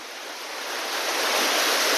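Ocean waves wash in near a house in Real, Quezon, as a steady broadband roar of surf that swells gradually louder. The roar is continuous and nobody speaks.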